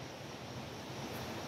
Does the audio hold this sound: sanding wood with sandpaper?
no